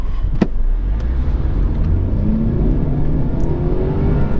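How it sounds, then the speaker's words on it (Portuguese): A Mercedes-Benz C250 Coupé Sport accelerates progressively toward 100 km/h, heard from inside as a steady, loud engine drone with rising tone and constant road rumble. "O que eu vou fazer é uma aceleração progressiva até 100 por hora."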